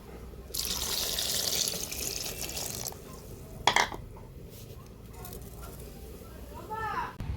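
Jujube fruits are washed in water at a sink, with running tap water splashing and gurgling, a brief clatter midway, and faint talk underneath.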